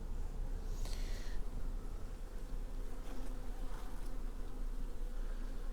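Honeybees buzz steadily during a spring hive inspection, a dense continuous drone up close with a brief louder pass of a single bee near the start.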